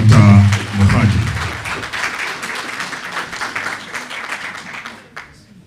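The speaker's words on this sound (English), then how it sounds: "A big round of applause to Dr. Mohadi" Audience applause at a World Teachers Day union gathering after a speaker is called up, a steady wash of many hands clapping that slowly fades over several seconds, with a voice briefly heard at the start.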